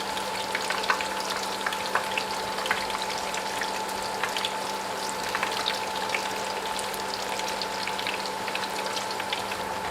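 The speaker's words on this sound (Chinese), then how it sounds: "全程中火慢炸，不断的翻面。" Sanzi dough twists deep-frying in oil over medium heat give a steady, close bubbling sizzle with scattered crackles and pops throughout, no voices.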